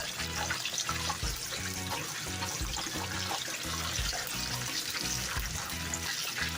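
Buffalo wings sizzle and crackle in hot frying grease, a dense continuous spatter that stays steady and fairly loud throughout with no voices.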